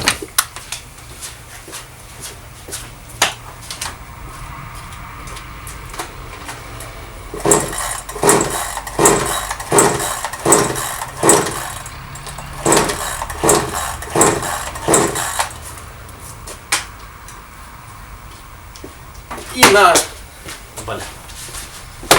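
Repeated starting attempts on a Brigadir chainsaw that won't start and isn't drawing fuel: a series of rapid pull-cord revs that sputter and fail to catch, with a voice talking at times.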